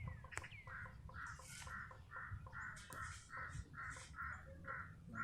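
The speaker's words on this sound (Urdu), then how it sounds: "ایسی خوبصورت آواز ہیں ان پرندوں کی" Crows caw repeatedly in a steady series of harsh calls near Altit Fort in Hunza, heard at moderate distance in a quiet outdoor setting.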